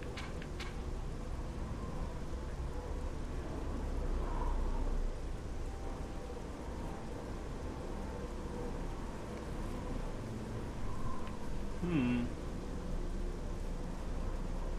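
Steady rain falls on a dark night in the Elder Scrolls IV: Oblivion game world, a constant wash of downpour with a soft rumble rising briefly mid-way, and no one talking.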